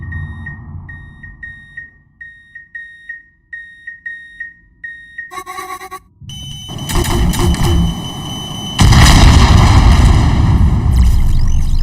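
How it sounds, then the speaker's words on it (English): Carpet bombing in the space combat game Space! Boiling Steel: a run of rhythmic warning beeps gives way to a burst of electronic tones, then a dense, loud, continuous rumble of explosions building and sustaining to the end. "I'm just gonna preemptively carpet bomb the area."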